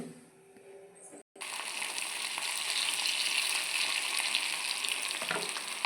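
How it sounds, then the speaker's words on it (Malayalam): Cauliflower hits hot coconut oil in a pan and sets off a loud, continuous sizzle that holds steady after a brief pause, with faint stirring and no talking. "ഞാനിപ്പോൾ ഇവിടെ വെളിച്ചെണ്ണ ഒഴിച്ചിട്ടുണ്ട് കേട്ടോ ഇനി നമുക്ക് കോളിഫ്ലവർ ഇടാം"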